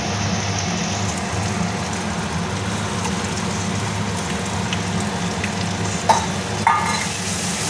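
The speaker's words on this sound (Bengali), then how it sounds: "আর ভালো করে কষিয়ে নিল, ভালো করে কষতে হবে নেড়ে নেড়ে।" Green pea paste stir-fried in an oil-filled kadai for kachori filling, a steady soft sizzle and stirring scrape running throughout, with a couple of sharper clinks near the end and no talk.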